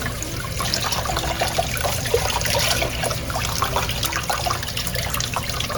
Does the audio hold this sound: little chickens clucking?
no